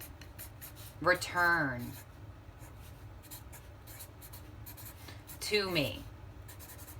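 A pen scratches across paper by hand in steady, close strokes, with a voice speaking briefly over the writing twice.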